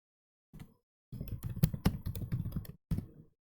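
Code is typed on a computer keyboard in short close bursts, a quick run of crisp key clicks after a brief tap and before a final short flurry, with no talk.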